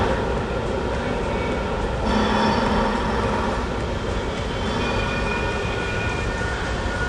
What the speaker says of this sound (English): it's actually supposed to be a recording of what sounds like a forest being destroyed and human civilization